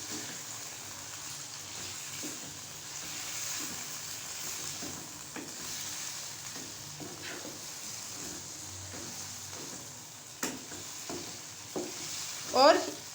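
Chicken pulao with yogurt sizzles steadily in a pot while a spoon stirs through it, with soft scrapes and a clack of utensils near the end.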